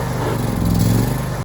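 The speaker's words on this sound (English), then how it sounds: "So I got the 4-wheel drive lawnmower out." A four-wheel drive lawnmower's engine drones loud and close through a race against a mini-bike, a steady motor roar that cuts off abruptly at the end.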